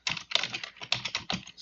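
Quick bursts of typing on a computer keyboard, close and clear, with about a dozen rapid keystrokes in uneven clusters and no talking.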